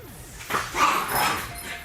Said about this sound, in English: Sorry about the dogs in the background.